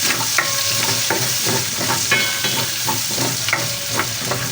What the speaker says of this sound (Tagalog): Ngayon naman po ay gigisa na po natin yung ating bawang.